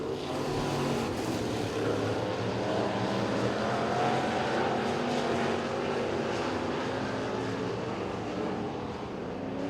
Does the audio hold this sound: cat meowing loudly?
no